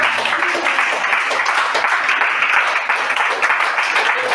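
A church congregation applauds in a dense, steady burst of clapping that stays even in loudness from start to finish, with faint voices mixed into the noise.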